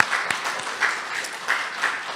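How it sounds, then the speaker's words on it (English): An audience applauds, a dense patter of many hands clapping at once, steady and moderately loud throughout the short stretch. "let's just give them a round of applause"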